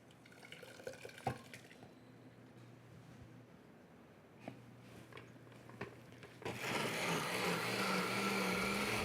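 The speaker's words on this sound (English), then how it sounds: "we're gonna add water to this, a cup of water, and we'll deglaze the pan" Water poured from a cup into a hot pan to deglaze it, a faint trickle and a few drips followed by a louder sustained sizzling hiss in the last few seconds.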